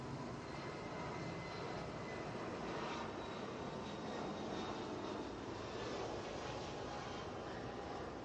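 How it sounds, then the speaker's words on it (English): An Airbus A320 airliner arriving at Atlanta airport gives a steady distant engine roar that stays even and broad throughout, with no talk. "Flight 1771 coming in from Toronto"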